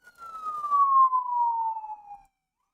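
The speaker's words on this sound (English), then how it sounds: "Yep, getting sirens now." A single siren tone wails and slowly slides downward for about two seconds, clear and fairly close, then cuts off into silence.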